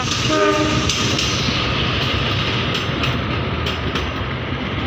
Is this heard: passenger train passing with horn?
yes